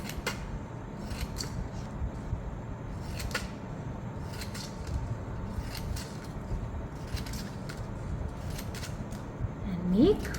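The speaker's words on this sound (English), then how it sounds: "Now I will use scissors and cut the end like this." Scissors snip paper into fringes for a paper bird craft, giving a run of quick, sharp, close cuts spaced at an irregular rhythm over a steady background hiss, with no talking.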